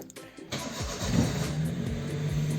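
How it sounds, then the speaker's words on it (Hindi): A car engine cranks briefly and catches, then settles into a steady running idle with a low hum and a slight rise in revs, close by, with no talking. "तब तक मैं गाड़ी वगैरह स्टार्ट कर लूँ"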